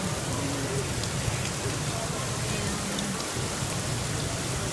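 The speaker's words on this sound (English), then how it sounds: "Did you see their hail out there? No, that was hail." Hail storm pouring down off a roof outside, a steady dense hiss of ice and water striking surfaces throughout, with faint voices murmuring in the background.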